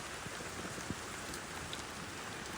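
Steady rain falls outdoors over a garden of daisies and grass, a soft, even hiss of drops with no thunder and no voices, fairly faint throughout.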